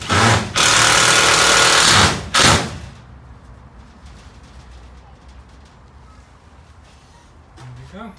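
A power tool cuts into the aluminium wall of a 1978 Avondale Heron vintage caravan in two loud, close, harsh bursts, followed by quieter handling noises.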